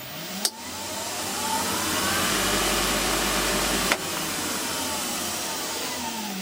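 A woodturning lathe motor runs up to full speed and then reverses straight from full speed, giving a steady whining hum that rises and holds. Sharp clicks mark the switching points, and the sound is close and loud with no talk.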